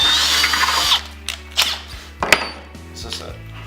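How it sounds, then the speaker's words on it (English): A power drill with a 25/64 inch bit reams out a hole for a pocket door track, whining briefly at first and then giving several short bursts and clunks. "And this will just ream the hole just a little bit bigger."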